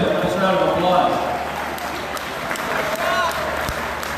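An audience applauds dancers in heavy wool folk costumes at an orchestra performance at the Shrine of Our Lady of Czestochowa in Doylestown, PA. Steady, fairly loud clapping continues throughout while a voice talks over it.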